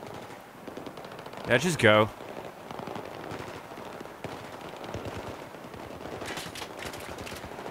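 Battlefield 3 gameplay with one short, loud burst of rapid gunfire near the start, then quieter game noise under a player's voice speaking briefly.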